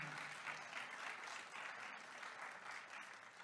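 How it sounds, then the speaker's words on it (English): Audience at a county budget address applauding the police department, a sustained, fairly distant and quiet round of clapping throughout. "can we give them a round of applause?"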